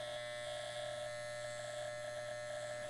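An electric hair clipper buzzes steadily and close during a low fade haircut, a constant motor whine with a faint hum beneath and no talking.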